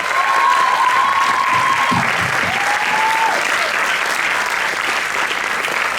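An audience at a school production of Guys and Dolls Jr applauds the stage crew, giving a dense, loud, continuous round of clapping with faint tones drifting underneath.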